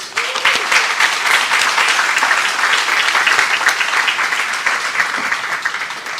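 An audience at the Mount Vernon High School Hall of Fame induction ceremony in 2025 gives a sustained round of applause, a full, even clatter of many hands lasting about six seconds.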